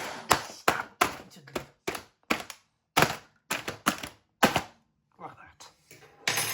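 A plastic wrapper on a polystyrene pack of oven chips is stabbed repeatedly, giving a run of sharp, close jabbing thuds and crackles at an uneven rhythm. A brief remark is spoken partway through.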